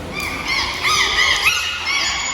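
A dolphin at the Dubai Dolphinarium show gives a run of high, warbling squeals and whistles, rising and falling in quick sweeps, loud and close over faint background.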